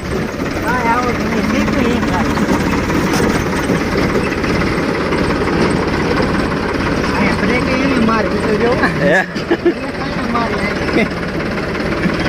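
A farm tractor engine, a Farmtrac 45 with a loader, runs steadily at close range, a loud continuous rumbling drone with a brief dip near the end, while people talk over it.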